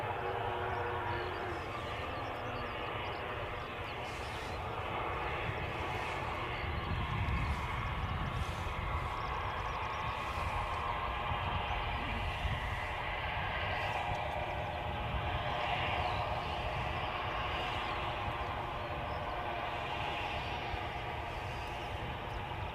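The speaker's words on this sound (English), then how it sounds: "An A320 recently arrived from Paris Charles de" An Airbus A320 airliner, recently arrived from Paris Charles de Gaulle at Edinburgh airport, gives a steady distant jet engine rumble and whine that holds for the whole stretch, with faint outdoor background noise and no talk.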